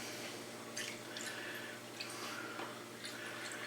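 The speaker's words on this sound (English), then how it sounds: "so now I take and fill them up with water." Water trickles and drips into glass canning jars being filled for home-canned headcheese, a faint, close, irregular splashing with soft drips and no talk.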